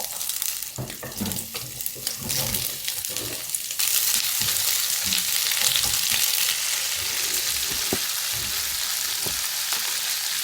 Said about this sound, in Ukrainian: Коли трішки підсмажиться, додаю цибулю.